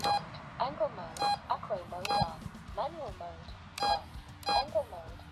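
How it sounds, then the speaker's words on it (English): Flight controller on an AtomRC Dolphin drone running INAV 7 plays short melodic beep sequences, several bursts repeated in quick succession, close and clear, with no voices. "It also beeps when you switch modes."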